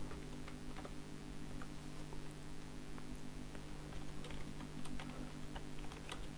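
Someone types Python code on a computer keyboard: soft, scattered key clicks at an uneven rhythm over a steady low hum.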